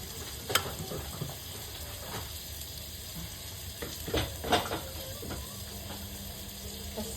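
Chicken feet adobo sautés in a pan, a low sizzle broken by several scraping clatters of a utensil and a brief trickle of water, heard close.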